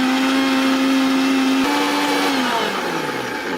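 Kitchen mixer grinder whirring steadily as it powders sugar with cardamom pods, a loud continuous motor drone whose pitch dips and winds down toward the end; no voices.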